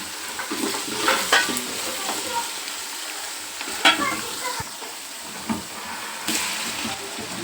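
A tempering fries in a pan for a village-style country chicken sambar, giving a steady close sizzle with stirring scrapes and occasional louder spatters throughout.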